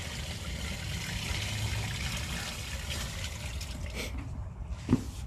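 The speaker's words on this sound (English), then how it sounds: "I'll let some water rip through the line here." Water rushes steadily through a sewer line, a continuous hollow flow with a brief louder gurgle near the end.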